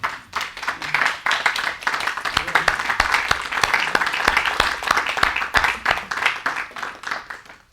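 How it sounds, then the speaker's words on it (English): Audience at a talk on forgiveness bursts into a round of applause, many hands clapping at close range in uneven bursts that swell and fade, with a few distinct sharp claps standing out. "I think you should all give yourselves a round of applause"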